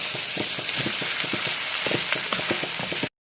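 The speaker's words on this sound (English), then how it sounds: "now I'm going to throw in the cooked noodles" Cooked noodles tossed and stir-fried with vegetables in a pan for Cantonese noodles, steady sizzling with repeated scraping and clattering strokes of a utensil against the pan, close and continuous before cutting off abruptly.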